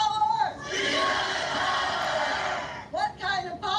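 A rally crowd roars and cheers together as one loud, sustained wall of voices, broken by brief shouted calls before and after the swell.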